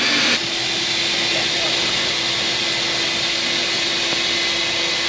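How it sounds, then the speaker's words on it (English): Vacuum on a seed tray seeder running steadily as a loud, constant broadband whoosh with a faint hum, close to the microphone and unbroken for the whole stretch, no talk over it. "And turn our vacuum back on."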